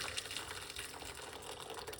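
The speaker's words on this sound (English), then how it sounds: "And then pour some hot water." Hot water pours steadily into a pot holding an avocado seed, a continuous close splashing rush with no voices.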